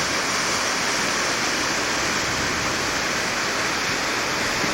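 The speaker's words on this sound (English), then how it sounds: "Not exactly a tremendous rush of water going through here." Water rushes under a suspension bridge in a steady, dense roar that stays even and loud throughout, with no voices.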